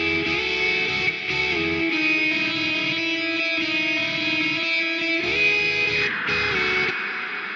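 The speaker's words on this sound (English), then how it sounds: "you can hear only the reverb without the dry signal with this wet only" Wet-only reverb with no dry signal: sustained, washed-out tones swell and blend into one another, a diffuse reverberant sound with no dry attack, continuous and moderately loud.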